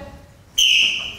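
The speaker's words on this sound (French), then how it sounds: "Michel ne semble pas d'accord et sort son sifflet." A whistle is blown once, a sudden shrill blast after a quiet moment, loud and close, fading slightly as it holds.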